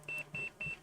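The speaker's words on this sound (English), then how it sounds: "my damn multimeter's beeping" A multimeter gives three evenly spaced, steady electronic beeps of similar length, fairly loud and close, with no talking over them.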